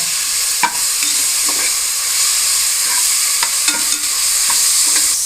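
Ginger garlic paste is stirred into mushroom biryani masala in a hot pan. A steady loud sizzle runs throughout, with a few scraping strokes of the spoon at irregular intervals.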